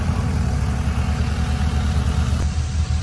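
A sand-pumping boat's engine runs close by, a loud steady low rumble that holds throughout while work goes on to fill a house foundation with sand and stone.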